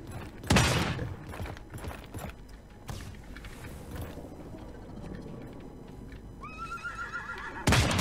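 A horse in a video game whinnies loudly near the end, a high rising neigh over busy game ambience with thuds and scattered shots earlier.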